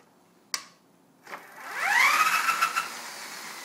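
48V Currie electric bike motor: a couple of sharp clicks as it is switched on, then a rising whine that spins up and holds at a steady electric hum, fairly close.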